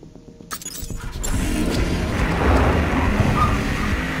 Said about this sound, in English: that grenade launcher hit us